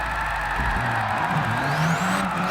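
Mazda RX7 in the GT Sport racing game, engine revving through rising and falling pitches while the tires squeal in a sustained skid, loud and continuous.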